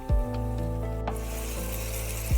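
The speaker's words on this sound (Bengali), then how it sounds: "দিয়ে একটু ভালোভাবে নাড়াচাড়া করে দিচ্ছি। একটু ফুটতে দিলাম।" A spatula scrapes and rubs through a ridge gourd and gram flour curry in a pan on a high gas flame, with soft strokes over a steady, close hum.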